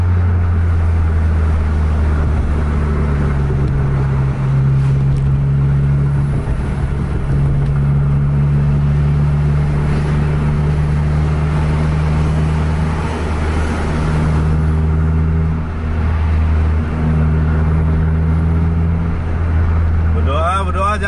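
A Scania or Mercedes-Benz bus, AW03, pulls hard at full throttle. Its loud, close engine drone carries strong droning tones that rise and fall as it accelerates, with voices talking over it.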